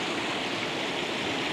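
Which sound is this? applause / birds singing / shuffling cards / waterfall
waterfall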